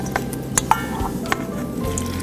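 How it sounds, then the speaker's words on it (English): Maple syrup and vanilla get a quick stir in a bowl: brief wet squishing with a few sharp clinks of a utensil against the side, close and short. "I'm just gonna give this a quick stir, and then Morgan, I'm gonna have you stir"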